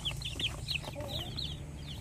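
Native chickens crossbred with Asil cluck and chirp in short, bright bursts on a farm, several birds calling close together over a low steady background hum.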